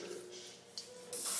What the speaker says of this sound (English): So really you just spray part of it.